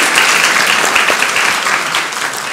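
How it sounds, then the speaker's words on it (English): An audience at a live book event applauds, loud close-up clapping that stays dense and steady for a couple of seconds, easing slightly toward the end. "Oh, round of applause for Noel"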